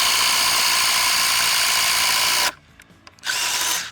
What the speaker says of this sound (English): we're going to use the spades again to go down through the 4x4